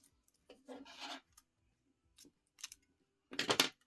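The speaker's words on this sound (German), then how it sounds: "Wir schneiden das ab." Scissors snip through Tesa tape in a few short, close, quiet bursts separated by silence, and nobody speaks.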